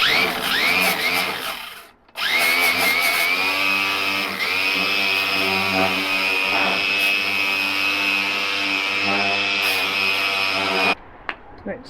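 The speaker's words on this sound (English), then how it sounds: "sanded it down with the angle grinder with the wire brush on it" Angle grinder fitted with a wire brush works over galvanized steel van floor patches: a loud, sustained whirring scour broken by a short pause, then a long continuous run before cutting off, with some voice beneath.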